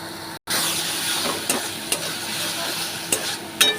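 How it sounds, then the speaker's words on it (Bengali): Spice masala frying in a pan with splashes of hot water, a steady loud sizzle and hiss with scraping stirs and occasional clinks, a brief dropout near the start, no voices. "গরম জল দিয়ে দিয়ে এটাকে আমি কষবো"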